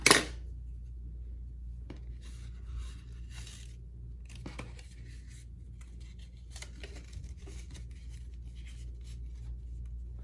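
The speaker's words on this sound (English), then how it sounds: "So you cut all the pieces." Scissors snip through paper banner pieces in short, close bursts of crisp cutting and rustling, with brief quiet gaps between cuts.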